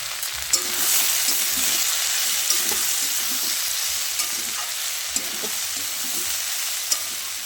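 Chopped onion and green chilies fry in a hot pan with a steady, loud sizzle, and a spatula scrapes and stirs through it in periodic clicks and knocks.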